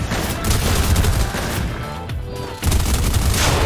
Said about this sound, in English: Shoot him, Mom.